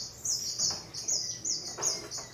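Birds in an aviary chirp repeatedly, giving five or six bright, quick twittering calls in a loose rhythm, fairly close and alone against a quiet background.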